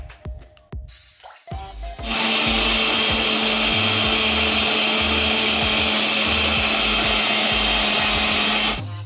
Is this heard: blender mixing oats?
yes